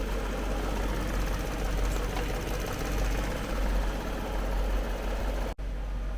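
A BMW E38 740i engine idles with a steady, even low rumble and a fine mechanical ticking, close to the bay and uninterrupted apart from a brief dropout.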